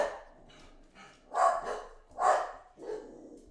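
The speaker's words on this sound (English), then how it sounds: "Yeah, dogs are going crazy." Several dogs bark indoors in a series of loud, close barks in uneven bursts, with quieter yips and whines in between and no talking.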